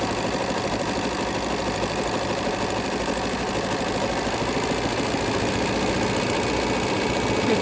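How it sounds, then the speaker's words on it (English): A Bernina sewing machine stitching steadily, its rapid, even mechanical chatter running loud and close without pause throughout. "and now we're stitching. And on the Berninas, you can adjust your stitch width while you sew."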